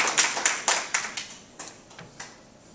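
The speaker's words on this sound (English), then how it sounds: "Please give yourselves a round of applause." A small group of seniors gives themselves a brief round of applause: scattered, sparse claps that start fairly strong and thin out over a couple of seconds.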